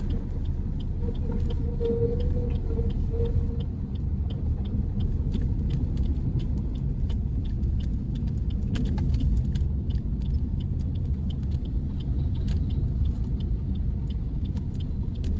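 A taxi car pulls over to the roadside, its engine rumbling low and steady throughout, close by and with no talk over it.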